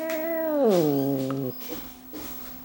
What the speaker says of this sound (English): Cat came in for a visit and she's not too happy. Oh, she's growling.